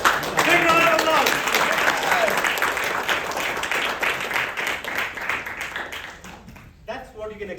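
Audience applause at a debate club meeting, a dense burst of clapping that starts loud and close and slowly thins and fades over several seconds, with a voice breaking in near the end.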